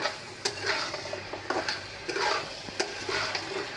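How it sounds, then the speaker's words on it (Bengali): Taro pieces sautéed with spices in a pan, with a steady soft sizzle and repeated scraping stirs of a spatula, moderately close and without talk. "এখন কচুগুলো ভালো করে কষিয়ে নেব।"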